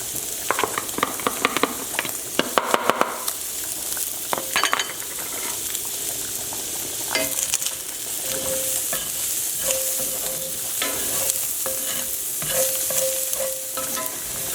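Garlic sizzling steadily in a hot pan for Spanish-style spaghetti with shrimp and chorizo, with a spoon scraping and stirring through it, clicking near the start and a continuous fry hiss throughout.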